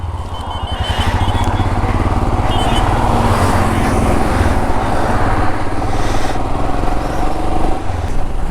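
A Himalayan BS6 motorcycle rides through traffic on a solo ride from Bangalore, its engine a loud, steady droning rumble close by with wind rush, holding even for the whole stretch.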